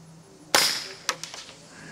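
A suppressed .22 rifle fires Remington subsonic ammunition at a 130-yard target: one sharp, dry crack, followed by a few faint ticks and echoes as it dies away.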